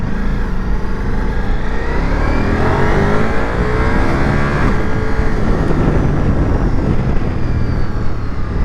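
A 2024 Ducati Multistrada V4S motorcycle's V4 engine revs up loud and close, a steady rough roar with rising then falling tones through the middle and no voices.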